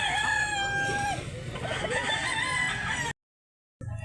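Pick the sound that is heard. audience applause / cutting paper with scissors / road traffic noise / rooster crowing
rooster crowing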